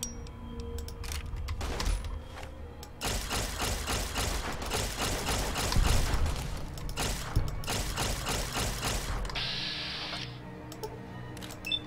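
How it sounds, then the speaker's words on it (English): Gun repair in Fallout: New Vegas, a run of quick mechanical clicks and clatter from a weapon being worked on, followed by a burst of rapid sharp rattling at mid loudness, with no talking. "I'm just repairing a gun."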